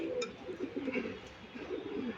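Pigeons coo in a steady low burbling chorus, several birds overlapping close by, with a soft continuous murmur and no talk.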